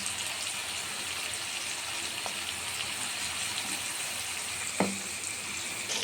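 Onion frying in a pan: steady frying hiss fills the clip, a broad sizzle with a couple of brief clinks, continuous and fairly close, no talking.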